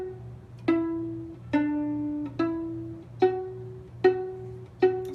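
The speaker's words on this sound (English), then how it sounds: "just sort of picking the string to sort of get the notes" Six sparse violin pizzicato plucks picking out the notes of Mary Had a Little Lamb, each a short bright pluck that decays quickly over a faint low background hum.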